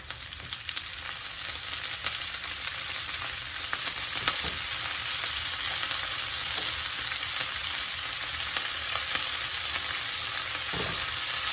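Home-grown vegetables and greens frying in a pan with onion and garlic, a steady close sizzle with faint stirring scrapes throughout and no talk.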